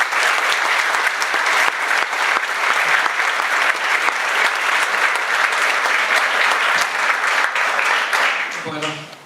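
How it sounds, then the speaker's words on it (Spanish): Loud, dense applause from an audience at a conference in Argentina fills the room steadily for about nine seconds, then thins out as a voice begins near the end. "les pido un fuerte aplauso para él"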